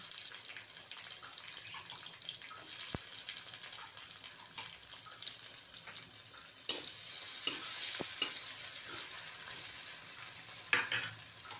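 Onion frying in a pan for vegetable hakka noodles, a soft steady sizzle with occasional sharp clicks and scrapes of stirring, fairly quiet and close, without talk.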